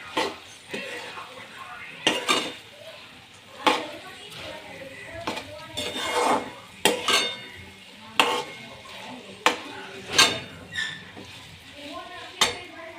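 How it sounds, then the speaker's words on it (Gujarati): Chopped okra being stirred in a pan, the spoon or spatula knocking the pan in repeated sharp clinks at an uneven rhythm over a light sizzle, with a voice talking in the background. "ત્યાર પછી આપણે જે ભીંડાના કટકા કર્યા હતા એને નાખવાના અને મસ્ત એડ કરી નાખવાનું"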